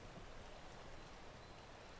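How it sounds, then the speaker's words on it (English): Steady rain hissing down in the video game Peak, a dense, even wash of falling drops with no voices, at a moderate, constant level throughout. "We just have to wait for the rain to go away."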